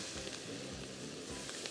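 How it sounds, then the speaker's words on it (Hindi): Finely diced onions sizzle in melted butter in a pan for Cajun chicken pasta, a steady close crackling hiss with soft stirring bumps. "जब यहाँ पे ये मेल्ट हो जाएंगे बटर विच इज़ डन, तो हम लोग यहाँ पे अनियंस डाल देंगे विच इज़ फाइनली डाइस्ड"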